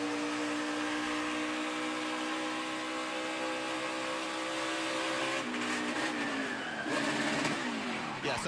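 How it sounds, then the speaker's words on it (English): NASCAR Xfinity Series stock cars at Kentucky in 2015 hold a steady, loud engine roar; then, after a rear-end failure, a car spins out and hits the wall, breaking up the engine drone. "something broke in the rear end of the car right there. You can see it just spun him out"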